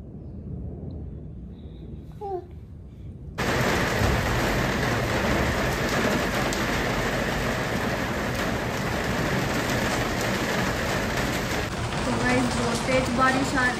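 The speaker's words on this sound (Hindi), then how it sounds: "तेज बारिश आ रही है" Heavy rain with hail pounding down in a steady dense roar, preceded by a few seconds of quieter indoor sound with a faint voice before the downpour swells in loudly.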